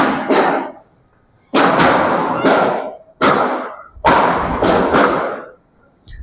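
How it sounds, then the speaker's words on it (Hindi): Hammers strike an old 1947 school building being demolished, loud close thuds in irregular bursts of one to three blows separated by short silences, no talking. "ये हथौड़ों की आवाज है जो बिल्डिंग पे चल रहे हैं।"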